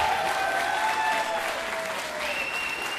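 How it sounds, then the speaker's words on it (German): A studio audience at the Schlager Trophy 2013 qualifying round applauds the three winners with loud, sustained clapping, while musical tones ring faintly underneath. "Applaus für unsere drei Sieger"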